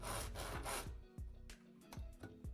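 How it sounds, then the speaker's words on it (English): A large, dull hand saw cuts slowly through wood in rough, uneven rasping strokes, loud up close, with a few sharp knocks between strokes near the end. "And then you can find the largest, most dull saw you can find and start cutting away."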